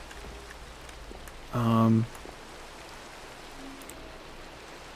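Rain falls in Minecraft as a soft, steady hiss through the whole stretch, with one brief spoken word cutting in partway through.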